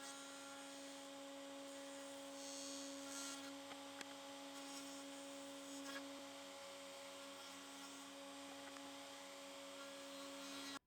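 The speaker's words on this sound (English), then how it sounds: "here I'm just creeping up on that final perfect fit with the router table" A router table trims a wooden tenon for a tight joint, giving a continuous high, even whine over a broad hiss, with a few faint clicks along the way.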